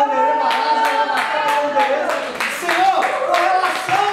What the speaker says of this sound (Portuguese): Pode aplaudir mais forte, vamos aplaudir, Senhor.